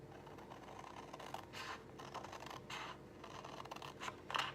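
Scissors snipping through a sheet of patterned paper, a series of quiet scratchy cuts in an otherwise still room, with a slightly louder snip at the end.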